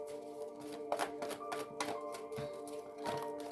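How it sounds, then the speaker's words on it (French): Tarot cards are shuffled and drawn by hand, a close, quiet series of soft papery flicks and taps coming in irregular bursts, with no talking. "Donc, je vais tirer les cartes."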